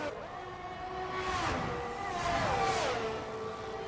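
Formula 1 car engine in the F1 2022 racing game, a thin high-pitched whine rising and falling through gear shifts as the car passes, heard fairly faint beneath a steady background hiss.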